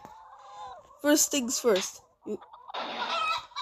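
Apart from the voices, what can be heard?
chickens clucking in video game Chicken Range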